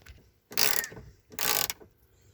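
Ratchet loosening 10 mm dash bolts on a 2001 Jeep Grand Cherokee during heater core work: two separate bursts of rapid clicking, each lasting about half a second, close and fairly loud, with no talk.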